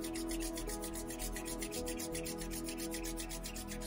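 Palms rub together quickly in a steady, continuous rapid swishing friction sound over a constant background hum, close and alone with no talking.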